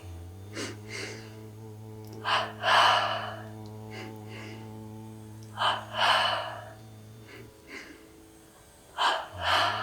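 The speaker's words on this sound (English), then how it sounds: "let's return back to double breathing" Rhythmic paired breaths during a devotional yoga practice, sharp double inhalations and exhalations recurring every few seconds, close and clear over a steady low hum.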